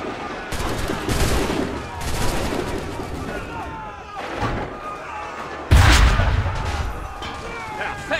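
Gunfire in the video game Assassin's Creed III: a run of loud, sharp shots and blasts across the clip, with the heaviest bang near the end, set against dense game ambience.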